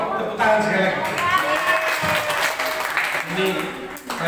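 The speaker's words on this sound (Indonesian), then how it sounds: "tolong tepuk tangan sekali lagi" A church audience at a Baptist service gathering in Mekarsari, Depok, applauds in a sustained, moderately loud wash of clapping that carries on throughout, with voices talking over it.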